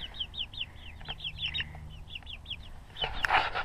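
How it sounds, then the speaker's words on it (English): Backyard chickens just fed in Central Oregon, clucking in quick repeated calls that overlap, close and moderately loud, ending in a brief louder rustling clatter. "So anyway, chickens are doing well. Just fed them."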